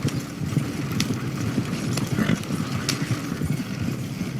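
Steady clip-clop of horse hooves trotting on hard ground in the video game Red Dead Redemption, fairly close, with a few faint clicks and light background noise.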